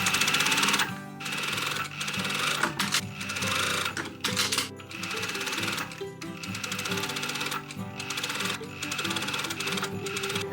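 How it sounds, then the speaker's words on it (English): Sewing machine stitching corset boning channels in snake-print fabric, a steady fast mechanical whirring with rhythmic needle clatter that runs almost continuously, pausing briefly a few times between seams, close and fairly loud. "all the boning channels have been sewn"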